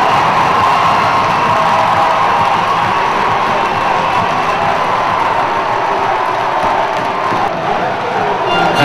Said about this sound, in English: Both the crowd and the players really are fired up for this one.